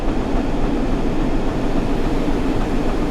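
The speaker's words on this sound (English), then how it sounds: "Loaded aggregates train, probably heading for Hayes" A loaded aggregates freight train in a railway video game rumbles past with a dense, steady roar of rolling wagons and wheel noise, fairly loud and continuous.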